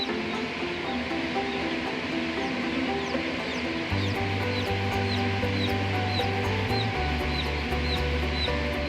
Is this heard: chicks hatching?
yes